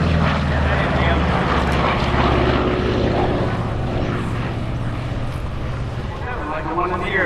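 A propeller aircraft flies over the crowd at the EAA AirVenture Oshkosh airshow, its engine a loud, steady drone that fades slightly, while a voice talks over it.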